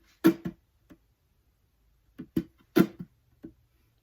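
Percussive hits on an acoustic guitar body, muted strums with slaps near the sound hole, in a looping pattern: a few sharp close knocks in two short clusters with silence between, no voice.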